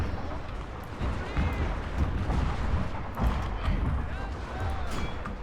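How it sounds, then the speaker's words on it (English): Naval artillery fire mission pounding enemy lines in Total War Shogun 2: Fall of the Samurai, a dense rumble of repeated booms and impacts under battlefield noise and occasional talk. "that naval fire mission came in super handy"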